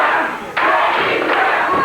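A wrestling arena crowd at a 1986 championship wrestling event shouts and roars loudly, a sustained chant that surges partway through with a thud.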